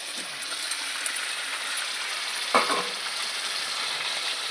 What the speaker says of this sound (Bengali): সেদ্ধ করা আলু আর এঁচড় দিয়ে দিচ্ছি।